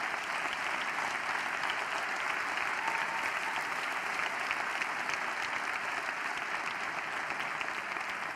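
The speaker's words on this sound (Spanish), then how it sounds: "Y quiero un aplauso para esa generación." Sustained applause from a large audience at a Podemos political event, a dense even wash of clapping at a distance that holds steady throughout with no talk.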